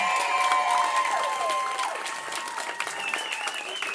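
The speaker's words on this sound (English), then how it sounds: "Keep that applause roaring" Sustained applause and cheering from a large audience at a talent competition, with faint shouts and whistles in the crowd noise throughout.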